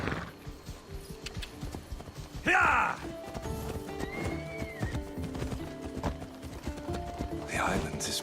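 Horse hooves clip-clop in Assassin's Creed Odyssey, with a whinny partway through, running under game music, ambience and characters' dialogue.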